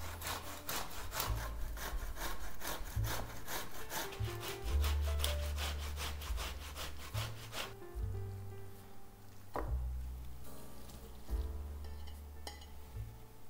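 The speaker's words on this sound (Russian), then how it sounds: "нам нужно натереть на крупной терке отваренную свеклу" Steady rhythmic scraping and rasping of boiled beetroot rubbed across a coarse grater, continuous strokes with brief pauses, close and fairly loud.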